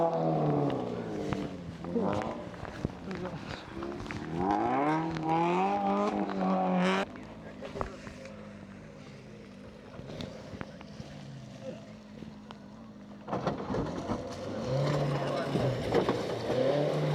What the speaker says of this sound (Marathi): गाडी इथं अडकलेली आहे. ती गाडी काढायला दुसरी गाडी आलेली आहे.